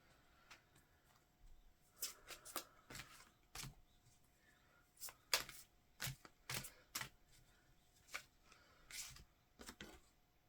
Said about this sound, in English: Let's get you some oracle cards.